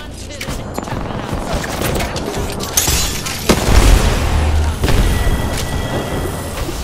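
A grenade blast in a video game, with loud, rumbling booms that roll over a steady din of gunfire and battle noise, and a heavier thump near the middle.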